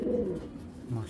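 Pigeons in a cage give two soft, low coos, one at the start and another near the end of a short, quiet moment.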